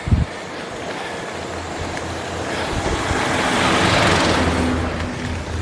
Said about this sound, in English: No end to the traffic on these roads